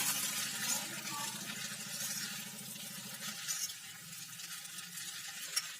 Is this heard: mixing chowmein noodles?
yes